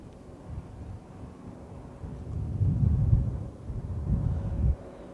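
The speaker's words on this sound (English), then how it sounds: "It's a little bit windy today in Shenyang." Wind gusts outdoors in Shenyang, China, at a ceremony for the returned remains of Chinese soldiers, low rumbling buffeting that swells in two stronger gusts midway, steady and fairly close with no talk.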